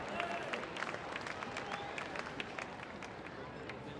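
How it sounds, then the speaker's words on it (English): Crowd applause at a world championship campdraft, clapping spread out and fairly distant beneath a voice talking over a public address, with a faint hum of the arena behind. "give him a big round of applause, Troy Palmer."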